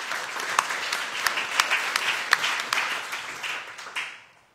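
Audience at a public debate on the value of opera bursts into steady applause, a dense wash of many hands clapping with a few sharper claps standing out, fading away at the end.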